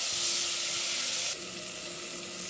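Butter and oil heating in a pan, a bright steady hiss and sizzle that drops slightly in level partway through, close and fairly loud.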